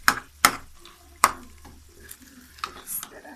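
A spoon stirring and loosening stiff, stuck-together macaroni in a pan, a few sharp scraping knocks followed by softer shuffling and light clinks, close and moderately loud.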